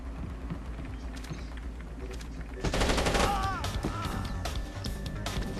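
Video game gunfire, a burst of rapid shots and crashes breaking out midway over a low background of game sound, fairly loud then easing to scattered noise, with some voice underneath.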